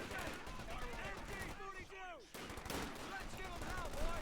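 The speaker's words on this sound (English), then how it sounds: "they got a machine gun ready to defend, except not from that angle" Rapid bursts of machine gun fire crackle through a battle in the World War II strategy game Company of Heroes 2, with whistling shells overhead. The firing pauses briefly and then resumes, mixed with other combat noise.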